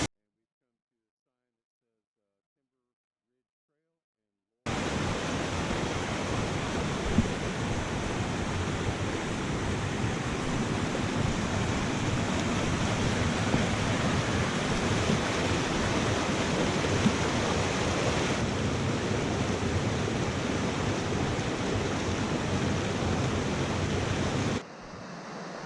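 Laurel Falls, a waterfall in Western North Carolina, roars in a steady broadband rush that begins abruptly after a few seconds of silence and holds loud and unbroken, close by, until a sudden cutoff near the end.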